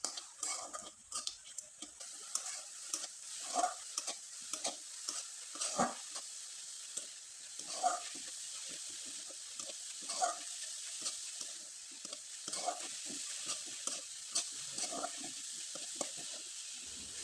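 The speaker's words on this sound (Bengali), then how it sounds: "এবার খুব ভালোভাবে নেড়েচেড়ে নিতে হবে।" A ripe mango filling for pitha being stirred in a hot pan, faint steady sizzling punctuated by repeated scraping and tapping of a spoon against metal, close and unhurried.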